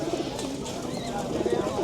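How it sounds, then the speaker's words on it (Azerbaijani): Pigeons cooing at an outdoor bird market, soft rolling coos repeating under faint background chatter. "Burada da fərqli quşlar var."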